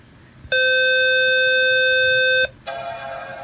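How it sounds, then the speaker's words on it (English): One loud, steady electronic startup beep from a 2006 Mac Mini holds for about two seconds, then cuts off and gives way to a quieter buzzing hum. "you should get a beep like that"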